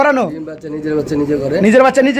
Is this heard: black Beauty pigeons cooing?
yes